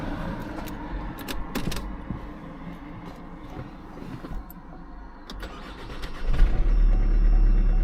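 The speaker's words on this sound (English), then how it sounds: "Car started." A 2016 Opel Insignia starts up after a few clicks and knocks from the cabin, the engine catching near the end and settling into a loud, steady idle.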